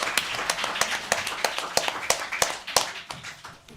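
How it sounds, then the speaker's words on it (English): A modest audience claps at a poetry festival reading, with distinct, sharp individual claps ringing out irregularly at close range and no talk. "Another round of applause for Matthew Zapruder."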